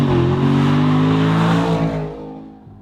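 A 2014 Chevrolet Camaro Z28 on a race track, its engine droning loud and steady under hard running, then receding and fading away near the end.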